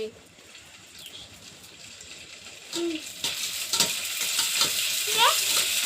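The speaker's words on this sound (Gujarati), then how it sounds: "તો ચાલો આપણે તળી નાખવી તેલ મૂકી દીધું છે" Puris for pani puri frying in hot oil at home, a close, continuous sizzle and bubbling that grows louder partway through, with faint bird calls in the background.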